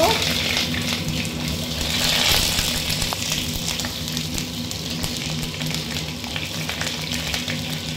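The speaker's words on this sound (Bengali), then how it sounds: "তেলটা গরম হয়ে গেছে, এর মধ্যে দিয়ে দেবো আমি পটলগুলোকে একটু ভেজে নেব।" Pointed gourd pieces frying in hot mustard oil in a pan, with a steady, loud sizzle that fills the whole stretch and rises slightly partway through, plus faint stirring.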